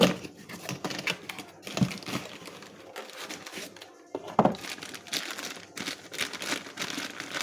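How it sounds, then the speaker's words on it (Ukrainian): Branded packaging for a cardan cross (universal joint) for the rear axle of a KAMAZ or ZIL truck being opened by hand, with crisp crinkling, tearing and crunching handling noises close to the microphone in irregular bursts, with no talking. "Ось таке пакування брендоване. Каталожний номер вказано. Відкриваємо."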